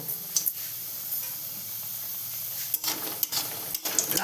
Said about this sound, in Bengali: কড়াইয়ে তেল দিয়ে দিলাম বা প্রথমে বড়ি ভেজে নেবো